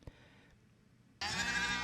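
Sheep on a winter farm bleat in a sudden loud, close burst that begins partway through and continues to the end, after a quieter stretch of low background noise.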